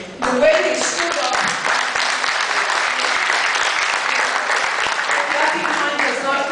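An audience applauds at a community gathering, with loud, sustained clapping from a large crowd filling the whole stretch at a steady level, and voices faintly mixed in.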